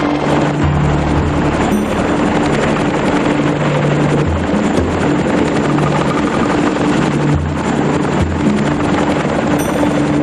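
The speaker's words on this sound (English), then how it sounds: "This Apache is the ultimate in modern gunships, an easy-to-handle helicopter that was also a true weapon of war." An Apache attack helicopter flies with a loud, continuous rotor roar and steady low thudding throb, close and constant throughout with wind buffeting.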